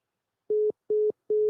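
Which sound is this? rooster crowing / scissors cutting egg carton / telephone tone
telephone tone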